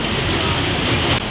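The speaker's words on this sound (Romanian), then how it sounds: "plouă foarte tare" Heavy rain pours down in Paris in a dense, continuous roar, loud and close, filling the whole moment.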